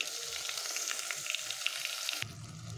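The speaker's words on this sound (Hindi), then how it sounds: "अब दाल को हमें एक दो मिनट तक फ्राई करना है।" Washed arhar dal frying in a pan gives a bright, crackling sizzle with quick little pops, then it suddenly drops to a duller, quieter hiss near the end, with no voices.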